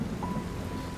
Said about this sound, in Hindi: तभी तेज बारिश भी शुरू हो गई।